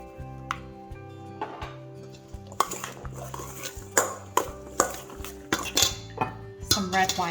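A spoon or whisk stirs salad dressing seasoned with salt and black pepper in a bowl, giving sharp, irregular clinks and scrapes against the dish over steady background music.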